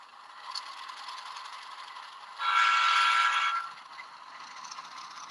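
A DCC model train runs along a layout track with a steady high whir that swells into a louder mechanical rush for about a second as it passes close by, then fades back.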